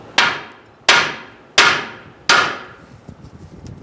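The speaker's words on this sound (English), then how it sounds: "give that a few whacks to see if it comes out" Four sharp, evenly spaced hammer whacks on a 2010-2013 Kia Soul steering knuckle to knock the outer tie rod end loose, each strike ringing briefly and decaying, close and loud, followed by faint rattling.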